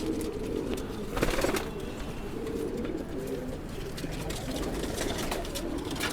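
Pigeons coo softly and repeatedly in a breeder's loft, low throaty calls overlapping with light rustling and faint chirps in the background.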